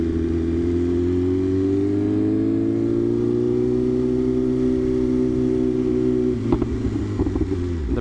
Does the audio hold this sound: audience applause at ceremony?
no